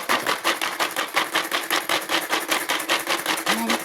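An electric vegetable chopper pulses rapidly while chopping carrot and beetroot, a steady mechanical thumping rhythm of many quick beats, close and fairly loud, with no talk.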